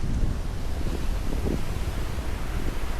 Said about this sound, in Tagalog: Malakas pa rin talaga ang hangin dito dahil sa habagat. At mas malalaki ang alon.